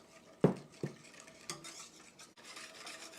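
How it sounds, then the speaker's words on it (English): Whisk stirring brown sugar and flour in a pot, producing faint scraping and a couple of sharp clinks against the metal, close and quiet. "Come back in with the whisk and whisk that up."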